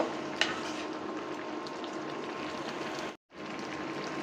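Luffa and shrimp curry with coriander leaves simmers and sizzles softly in a pan, a steady faint crackle with a brief clink near the start and a short break late on, no talk.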